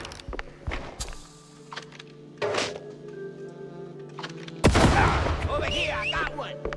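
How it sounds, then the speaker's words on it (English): Firecrackers popping inside a wooden attic in a video game, sparse thuds and cracks giving way to a loud, dense crackling burst in the final seconds, with game music and voices faintly underneath. "Pretty sure the fire department frowns on stuffing firecrackers into wooden attics."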